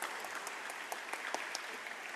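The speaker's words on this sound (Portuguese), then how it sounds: "Salve de palmas" Faint, distant applause from an audience at a youth council closing ceremony, honouring a councillor: a steady wash of many hands with a few crisper claps poking through for about two seconds.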